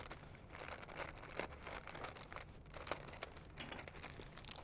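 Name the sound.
opening a cake mix packet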